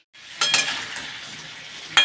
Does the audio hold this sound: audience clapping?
no